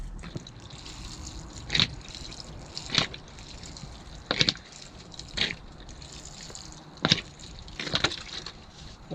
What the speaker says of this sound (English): I'm just going to give him a quick drink of water.